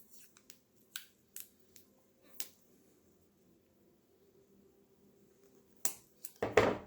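A roll of black tape is picked up and handled: a few sparse soft clicks and rustles over a quiet background, then sharper crinkling and handling noises bunch together at the end.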